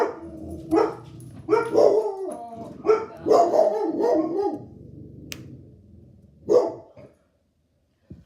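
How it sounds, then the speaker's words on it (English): Dogs bark repeatedly in bursts, some yelps and a howl-like note, fairly close, with a pause and one last bark near the end. "So sorry about those dogs. Another dog is walking by."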